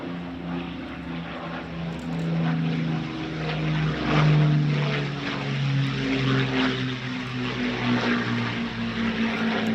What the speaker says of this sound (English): our demonstration today of this DH-98 Mosquito